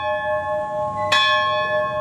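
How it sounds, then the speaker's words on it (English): A locomotive bell on Milwaukee Road steam engine 1004 rings out once, a bright, ringing strike with long sustained overtones over steady background rumble. "Go ahead, ring the bell."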